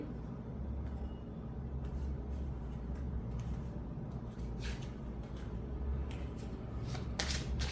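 Tarot cards are handled and shuffled during a card reading, making soft riffling and flicking sounds in quick bursts that grow sharper toward the end, over a low background rumble.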